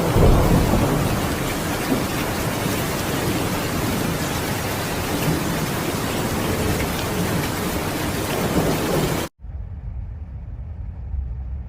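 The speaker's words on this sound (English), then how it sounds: "persistent downpours caused widespread waterlogging across parts of the city" Torrential rain pours down with rumbling thunder during city flooding in Shanghai, a dense, loud and steady roar that cuts off abruptly near the end, leaving a much quieter rain hiss.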